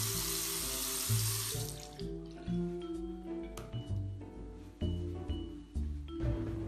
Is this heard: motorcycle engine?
no